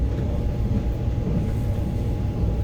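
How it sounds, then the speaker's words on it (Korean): A Gyeongchun Line train heard from inside as it rides along, giving a steady low rumble and rolling rail noise that stays loud and even throughout, with no talking. "오늘은 경춘선 열차를 타고 여행을 떠납니다."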